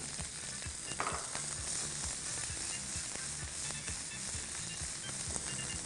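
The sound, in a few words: capsicum frying in hot sunflower oil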